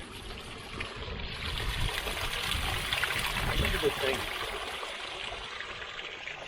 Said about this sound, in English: you can see where that water is running out and draining away